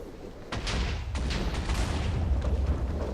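A TNT cannon in Minecraft Tekkit sets off a deep boom, followed by a sustained rumbling, crackling blast that stays loud to the end.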